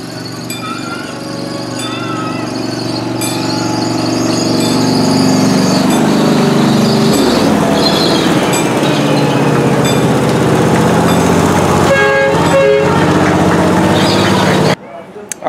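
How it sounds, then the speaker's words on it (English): A small zoo train pulls into the station at the Central Florida Zoo in Sanford, its engine rumbling steadily and growing louder as it nears, with squealing tones and bell-like rings over the approach; voices are heard nearby. "The train coming into the station."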